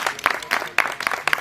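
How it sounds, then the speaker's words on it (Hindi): Applause from a meeting audience in Surat, a burst of dense clapping with sharp peaks that holds steady and fairly close for a moment. "वेरी गुड, जोरदार ताली मैडम के लिए।"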